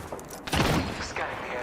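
A short burst of gunfire in the battle royale game Apex Legends, several rapid shots at close range layered with in-game effects and a voice talking over them.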